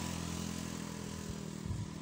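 Motorcycle carrying riders along a road near the sea at Bulusan, a steady close engine drone with wind rumble throughout, no talking.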